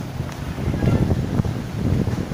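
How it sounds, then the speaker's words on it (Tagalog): Strong sea waves and gusty wind at the shore, a steady low roar with wind buffeting the microphone and no talking. "Malakas ang alon ng tubig mga kaisman, malakas."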